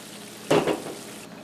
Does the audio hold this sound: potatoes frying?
yes